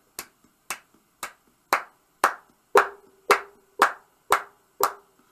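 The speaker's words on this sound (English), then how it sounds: "I'm going to sing so, sa, so, and you just clap" A group at a memory café rhythm and culture session claps hands in a steady, evenly spaced beat, each clap crisp and close with a faint ringing tone between claps.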